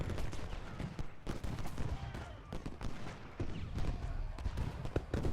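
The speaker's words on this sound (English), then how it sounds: "Those cannons started firing." Cannon and massed rifle fire in the Civil War strategy game Ultimate General: Gettysburg, with dense overlapping volleys and sharp repeated bangs crackling steadily throughout, booming low and fairly close.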